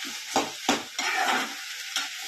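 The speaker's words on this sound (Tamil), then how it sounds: "தேங்காயம் போட்டு வணக்கிட வேண்டியதான்." Grated coconut being sautéed in a pan for a quick chutney, with a steady sizzle and several distinct scraping stirs of a spoon against the pan, close and fairly loud, with no talking.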